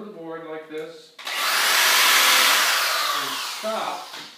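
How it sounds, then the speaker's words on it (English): An electric drill bores a hole from the back side through a wooden board, a loud close steady whine of about two and a half seconds, with talk just before and after. "So you want to drill a hole from the back side through the board like this."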